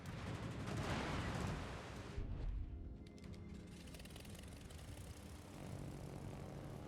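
Propeller-driven Soviet carrier aircraft in World of Warships drone loudly and steadily, with a rattling burst of rocket fire midway before the engine roar settles back in.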